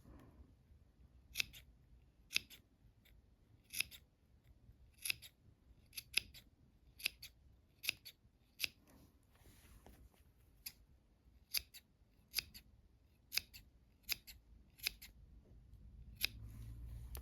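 Scissors snip notches into fabric at the corners and curves of a lined jacket, with about fifteen sharp, crisp cuts spaced irregularly over a quiet background.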